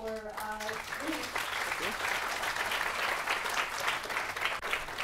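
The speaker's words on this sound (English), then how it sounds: "So everyone, please join me in a round of welcome of applause for Luis." At a tech conference talk in Los Angeles, an audience breaks into sustained, dense applause that welcomes the speaker, loud and steady for several seconds after a brief voice at the start.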